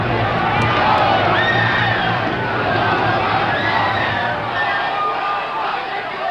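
A protest crowd at the Democratic National Convention riots in Chicago roars in a dense, continuous wall of shouting and cheering voices, loud and steady throughout with no single voice standing out.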